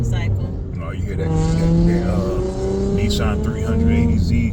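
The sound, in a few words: loud car passing and revving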